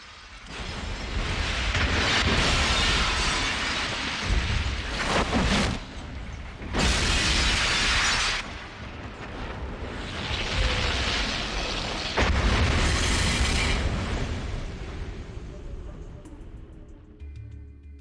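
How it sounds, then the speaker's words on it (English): A cathedral explodes in the Fallout video game: several long, heavy booming blasts roll out one after another with brief lulls between them, loud and rumbling before fading near the end. "the cathedral explosion is the icing on the cake"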